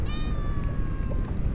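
A single close, clear cat meow with a falling pitch at a fishing spot, followed by a brief quieter mew over low background rumble.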